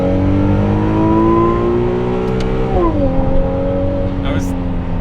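A Ferrari 296 GTB engine climbs steadily toward 8,000 RPM, a loud rising whine with layered harmonics inside the cabin, then drops sharply as it shifts and resumes pulling.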